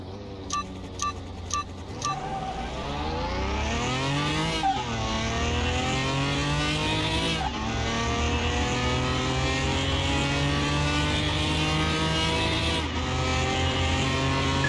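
A race car in the Car Mechanic Simulator 2021 game revs hard and accelerates through repeated gear shifts, its engine note climbing loud and close throughout. Brief beeping tones come first, and a faint tire squeal may be mixed in.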